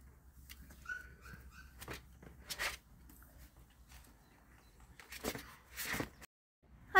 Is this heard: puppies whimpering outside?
yes